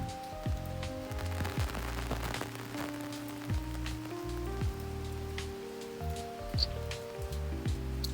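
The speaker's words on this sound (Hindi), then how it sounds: "तो आप देख सकते हो इस समय कितनी तेज बारिश हो रही है।" Heavy rain pours steadily in Rishikesh, a dense constant hiss of drops striking surfaces, with a low hum and scattered tonal whines running underneath.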